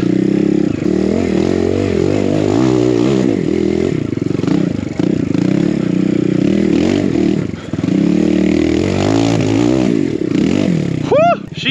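A BBR KLX170RF dirt bike fitted with a traction tire rides through snow, its engine buzzing and revving loudly and steadily up close, pitch rising and falling with the throttle, plus a brief sharp whine near the end.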